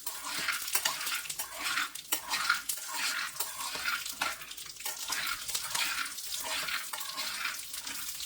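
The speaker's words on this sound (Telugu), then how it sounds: "పచ్చిమిర్చి, చిన్న అల్లం ముక్క ఒకటి, ఈ మాత్రం ఆయిల్ వేసుకొని ఫ్రై చేసుకోవాలి." Green chillies and a small piece of ginger frying in a little oil in a pan, a steady soft crackle with intermittent stirring scrapes and utensil clinks throughout, close by.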